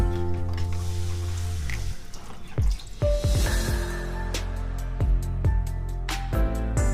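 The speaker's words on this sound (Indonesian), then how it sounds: "ini dia santannya, kita tuang ke dalam adonan" Coconut milk is poured into a starchy batter made with sago flour and spring onion, giving a thick glugging pour followed by a run of wet drips and splashes, close with no talking.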